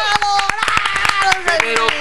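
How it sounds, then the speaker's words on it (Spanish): Studio audience applause welcoming guests on a Mexican TV show, sharp, distinct claps in a quick irregular rhythm, close and loud, with people talking and music tones over them. "Un aplauso para recibir a mis invitados"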